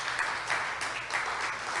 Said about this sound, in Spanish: Démosle un fuerte aplauso a la gloria de Dios en esta tarde.